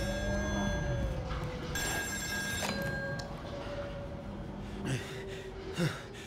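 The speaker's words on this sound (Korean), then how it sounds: "전화, 전화." Telephone rings inside the video game Still Wakes the Deep, a bright repeating electronic tone ringing over a dense, rumbling game soundscape, with a few short accent noises partway through.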